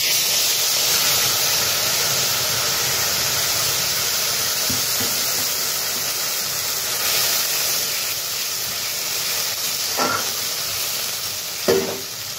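Ginger, green chili and tomato paste frying in hot oil for squash ghonto, a steady close sizzle throughout with a couple of brief stirring scrapes near the end.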